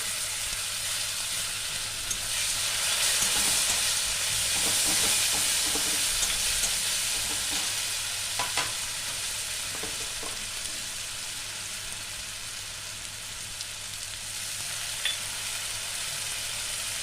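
Onion, garlic, cumin, chili and ginger with tomato fry in a pan for a red chickpea chaat, giving a steady, fairly loud sizzle with occasional scraping stirs throughout.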